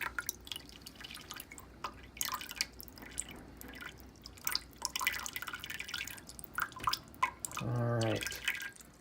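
Water drips and trickles from an XP Aqua RODI water filter, quick irregular drips close by with a brief fuller pour near the end and faint voice in the background.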